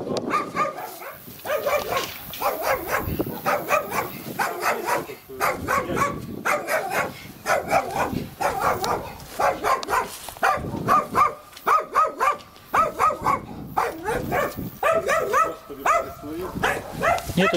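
A dog barks repeatedly outdoors in a village, a long run of loud, close barks with a few whimpers and yips mixed in, while people talk nearby.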